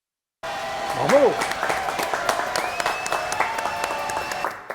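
An audience applauds after a song on the French stage show JLPP. Steady, full clapping follows a brief vocal flourish and fades gradually over several seconds.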